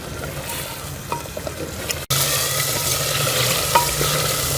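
Beef bhuna gosht curry being fried down in its thick gravy, a steady close sizzle with faint stirring scrapes, briefly cutting out midway before resuming, no voices.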